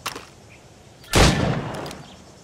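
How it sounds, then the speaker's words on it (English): Single loud gunshot at a shooting-range target in Assassin's Creed Rogue, a sharp crack followed by a sustained rumbling tail after a quiet lead-in. "Shoot these targets."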